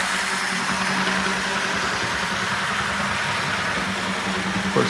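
A vintage brass model steam locomotive runs on a test track, its small electric motor and worn gears giving a steady, fairly loud mechanical whir and hum that holds evenly throughout with no talk over it.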